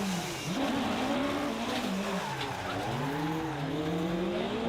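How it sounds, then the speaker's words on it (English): Rally car spinning out on a stage: the engine revs up and down with tire skidding, the car heard continuously and fairly loud without any talk. "Simon Major almost pushed too hard over the final loop, resulting in this stage 7 spin."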